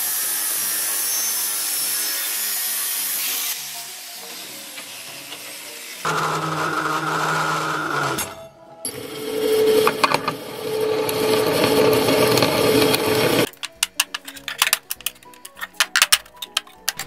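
Metal tubes being cut into framework parts for a plastic injection machine. Several separate bursts of harsh cutting and rasping sound change in tone from one stretch to the next, ending in a run of close, sharp clicks and ticks.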